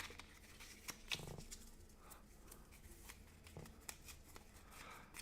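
A large deck of fish-themed board game cards is shuffled by hand nearby, with repeated crisp riffles and flicks spread across several seconds and an occasional louder clack, all without speech.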